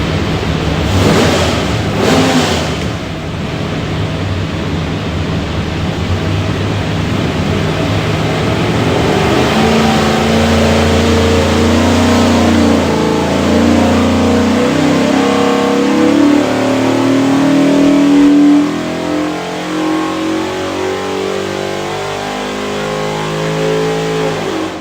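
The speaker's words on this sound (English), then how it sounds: "Going to make a run, see what she does." A 363ci small block Ford V8 roars on an engine dyno at Prestige Motors, running a sustained loud pull as revs climb steadily and pitch rises before easing off near the end, with no talk over it.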